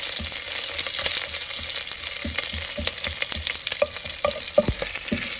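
Curry leaves fry in hot oil for a black chickpea curry, making a bright, continuous crackling sizzle with scattered sharp pops and a few stirring knocks near the end.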